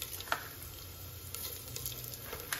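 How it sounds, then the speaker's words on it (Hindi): Desi ghee sizzling softly in a pan while tempering for khichdi, with a faint steady crackle and a few light pops. "मैंने देसी घी डाला है और देसी घी को तड़का लगा के बनाऊंगी"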